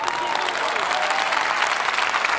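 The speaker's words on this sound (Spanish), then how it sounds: "yo me aplaudo." A preacher claps his own hands in steady, rapid applause, loud and close, filling the whole stretch with dense, continuous clapping and no talk.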